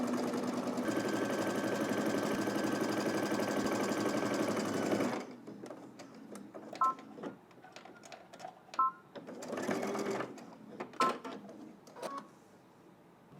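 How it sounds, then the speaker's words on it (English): A sewing machine runs steadily for about five seconds stitching a skirt seam with a 5/8 inch allowance on a Simplicity 3010 pattern, then stops, leaving quiet handling clicks and short rattling bursts. "we're going to head to the machine and stitch all the way around using 5/8 of an inch seam allowance"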